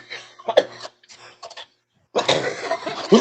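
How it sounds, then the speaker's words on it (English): A woman coughs in a few rough bursts nearby, with short pauses of silence between them, before a louder stretch of coughing and spluttering mixed with voices. "I was coughing, girl."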